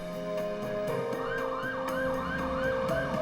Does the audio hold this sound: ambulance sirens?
yes